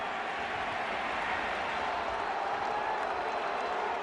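A Fenway Park baseball crowd applauds Alex Rodriguez's ejection during a Yankees–Red Sox game. The clapping and crowd roar form a steady, dense wash that holds at an even level throughout, with no clear break.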